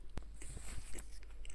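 Close, crunchy chewing and biting of a mulberry leaf sandwich, a few distinct crisp bites followed by steady mastication, heard alone with no talking.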